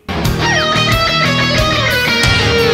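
Electric guitar solo phrase in E Phrygian dominant, a loud, sustained run of bent and sliding lead notes over a driving band backing, played alone without talk.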